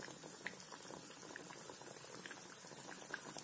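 Soft, steady sizzling and bubbling of vada batter frying in hot oil, quiet and close, with small pops scattered throughout.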